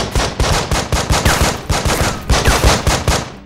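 Rapid bursts of automatic gunfire in the video game Breach & Clear: Stack Up, loud and close, firing in a steady rattling rhythm of about a dozen quick shots with no talking.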